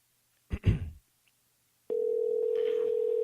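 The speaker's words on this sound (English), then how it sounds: "We trying to get my boy Madman on the phone right now" A telephone line gives a brief clunk of handset noise, then after a pause a steady continuous dial tone sounds clearly and alone while a call is being placed.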